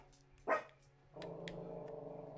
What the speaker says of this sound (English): here we go again with the dog